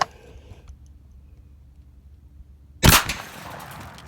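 A single loud, sharp blast from a 28 gauge shotgun firing 2 3/4 inch Hevi Steel shells with 5/8 ounce of number 4 steel shot, after near silence, with a short echoing decay.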